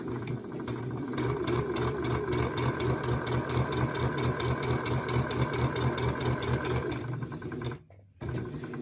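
A sewing machine stitches seams at a steady fast rhythm, a close, continuous mechanical whir and clatter that runs nearly the whole time, pausing briefly near the end before starting again.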